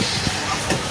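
A moving passenger train rumbles close by with a steady roar and hiss, plus a few soft rhythmic clacks over a brief stretch.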